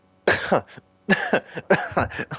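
Three harsh coughing fits in quick succession, each a burst of two or three rough coughs, close and loud with short pauses between.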